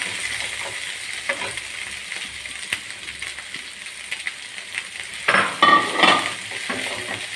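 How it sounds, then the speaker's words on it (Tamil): Okra sautéing in oil in a pan for kuzhambu makes a soft steady sizzle, with scattered spoon taps and a burst of louder stirring and scraping near the end. "அதில் நமக்கு நம்ம இந்த வெண்டைக்காய் நல்லா வதக்கி விடலாம்."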